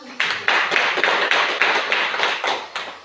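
A classroom of pupils claps in unison, a rhythmic pattern of about a dozen sharp, loud group claps evenly spaced, alone without speech.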